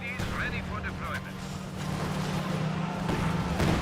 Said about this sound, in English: Or not grenades, Katyusha's being fired